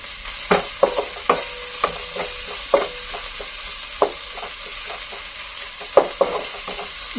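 Onion and tomato gravy for chicken curry frying in a pan, a soft sizzle punctuated by sharp spatula taps and scrapes at irregular intervals, with no voices.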